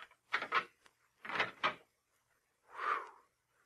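Old door being opened as a radio drama sound effect: a few creaking, scraping bursts in separate groups with quiet gaps between, close and fairly loud, no speech over it.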